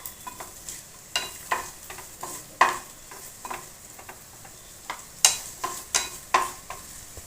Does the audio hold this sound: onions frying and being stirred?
yes